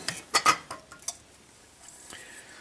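A metal camping cookpot and its lid are handled up close, giving a few quick clinks and clatters in the first second, then a couple of lighter taps before the sound fades to quiet room tone.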